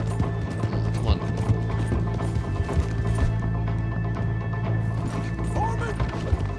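Horse hooves pounding at a gallop in the Western video game Red Dead Redemption 2, rapid clip-clop beats over a low rumbling game soundscape, with occasional thuds and a brief whinny-like cry.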